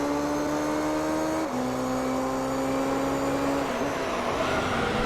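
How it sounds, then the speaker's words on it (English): A Mazda race car engine in Gran Turismo 3 screams at high, steady revs, its pitch dipping briefly at two gear changes before climbing again, loud and constant throughout with no talk. "the Mazda is clearly over-revving, it sounds like, as he heads through the corners"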